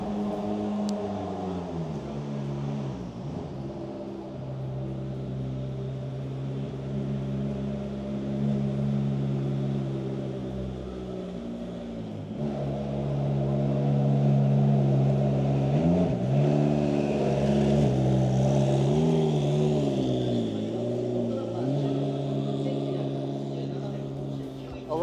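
A McLaren 720S GT3 race car engine at a Tokyo car auction rises and falls through several throttle blips over a low steady idle, loud and close, growing more aggressive midway.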